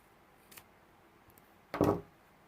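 Fabric scissors snip through the tail of a sewn fabric bow for a girl's skirt waistband, giving one short, close crisp cut after a faint earlier click in an otherwise quiet room.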